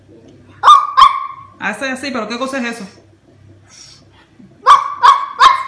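A child imitates a dog's barking with several sharp vocal yips in two bursts, while an adult speaks between them.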